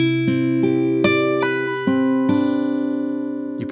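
Acoustic guitar plays the crisscross section of a song, clear plucked notes and ringing chords in an uneven picking pattern, close and alone with no talking.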